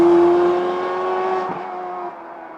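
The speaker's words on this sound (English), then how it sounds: "This is what the Scuderia sounds like now." A stock Ferrari Scuderia fitted with an X-pipe exhaust revs with a loud, steady high-pitched engine note that holds and then drops slightly, close and sustained with no talk.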